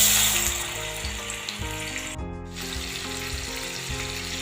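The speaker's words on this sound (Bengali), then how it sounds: "এবার আমি চিংড়ি মাছগুলো ভেজে নেব।" Shrimp fry in hot mustard oil in a wok with a loud, continuous close sizzle, briefly broken by a stir or shift in the pan, and no talking.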